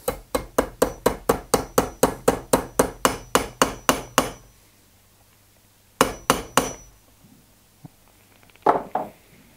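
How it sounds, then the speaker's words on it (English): Metal nut hammered into a tube for an interference fit: about fourteen rapid, evenly spaced sharp blows close by, a pause, then a couple more strikes and a few lighter taps. "I'm going to bang it into this tube"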